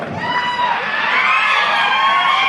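A college audience at a mimicry show at Dayanand College, Latur, erupts for Ajit Dada: a dense, steady roar of cheering, whooping and shrill youthful shouting, sustained throughout with no pause.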